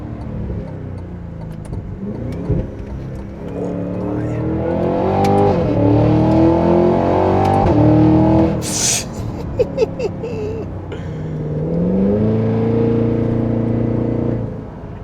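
A 2025 Cadillac Escalade V engine revs up and down at low speed, rising and falling in loud, close swells with crackling burbles on the overrun.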